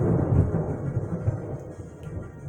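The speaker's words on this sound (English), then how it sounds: "dang, the thunderstorm actually came over here." Low, rolling rumble of thunder from a passing thunderstorm, a continuous deep roar that swells and eases over a couple of seconds, fairly close and steady with no voices.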